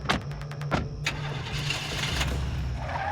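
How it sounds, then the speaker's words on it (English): A car engine cranks and struggles to catch, with a few rapid clicking bursts at first, then a rough, labored churning that runs on unsteadily with no voices. "she was having difficulty getting the car started"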